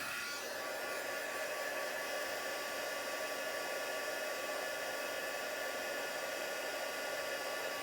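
A constant loud whirring blast of a heat tool warming cardstock runs without pause, an even mechanical drone with a fan-like hiss.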